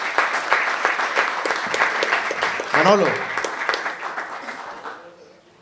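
Loud applause from a gathered crowd honours Manuel Cruz, a retiring Canarian lateen sailor, dense clapping that carries on under a voice calling out and fades toward the end.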